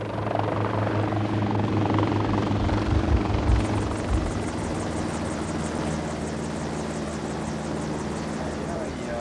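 A helicopter carries an expedition leader away from his ship on a 1980s Amazon expedition, with a loud, sustained rotor thrum and turbine whine that later settles into a rhythmic blade chop.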